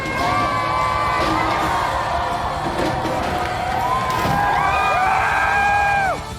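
A large crowd of far-right supporters protesting in Parliament Square, London, making a loud, continuous roar of shouts, cheers and whoops, with higher raised voices rising near the end.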